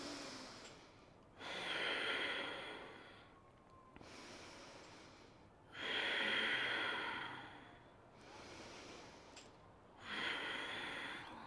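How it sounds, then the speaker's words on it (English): Slow, deep breaths during a power-flow yoga session, each long exhale swelling and fading at a steady pace, three or four close, audible cycles with no talk over them. "We have 4 more breaths here."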